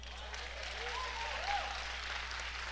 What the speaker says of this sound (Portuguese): Vai aplaudir a Deus por isso.